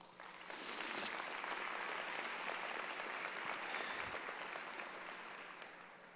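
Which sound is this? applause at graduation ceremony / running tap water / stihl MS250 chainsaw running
applause at graduation ceremony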